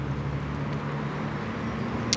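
Steady low rumble of car traffic on a road behind, continuous and moderately loud throughout, with no talking.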